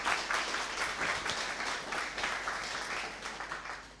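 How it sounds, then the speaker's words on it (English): An audience at NixCon 2018, a Nix conference, claps for a speaker. The applause is steady and dense, with many hands together, and keeps going for about four seconds without easing. "Quick applause, of course, yeah, please."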